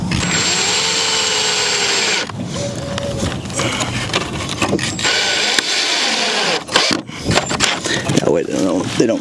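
A power drill drives small screws into a wooden raised garden bed, with a whirring whine in bursts up close, broken by scraping and handling noises and occasional voices in the background.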